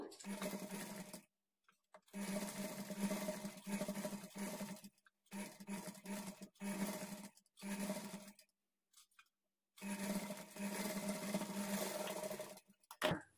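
Sewing machine stitching over the thread piping on a child's lehenga blouse, running in a steady whirring burst, then stopping, starting again in several short runs with silent gaps between, close up.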